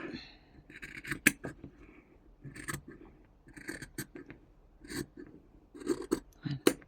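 Scissors cutting through fabric pieces laid right sides together for a sewing craft, heard as a series of short crisp snips and rasps, close and fairly quiet, with no talking.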